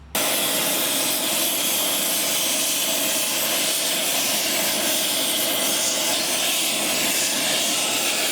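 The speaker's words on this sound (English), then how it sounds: "we're probably gonna need the hot wrench" Steady, loud roaring hiss of an oxy torch heating a seized bolt on an old 50-ton modular lowboy trailer, a constant broadband rush that holds unbroken from start to finish with no talking.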